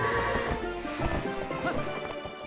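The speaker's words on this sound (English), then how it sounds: "And as in all the other Zelda games, you can obviously jump fences with Epona." Horse hooves thud in a quick galloping rhythm in Zelda: Twilight Princess, mixed with crashing game effects and background music, close and fairly loud.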